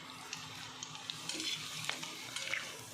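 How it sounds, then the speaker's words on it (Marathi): Homemade chips fry in hot oil, giving a soft, steady sizzle with faint crackles and occasional light clinks from stirring, fairly quiet throughout. "हा चिप्स टाकून बघू याच्यामध्ये."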